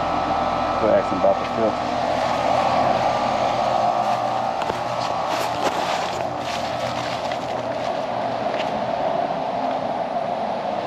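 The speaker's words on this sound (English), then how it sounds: "Now to monitor that blower then." An air conditioner blower runs with a steady whooshing hum, close by and fairly loud, while someone briefly speaks over it and scattered clicks and thumps come and go.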